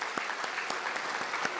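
A church congregation at a New Year's Mass claps together, a dense, steady patter of many hands with a few sharper claps standing out, moderately distant and filling the whole moment.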